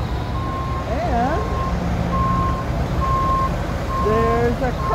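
Flatbed trucks reversing, a steady series of evenly spaced electronic backup beeps over low engine rumble, with a person's voice briefly audible nearby.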